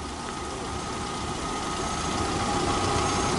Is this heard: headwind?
no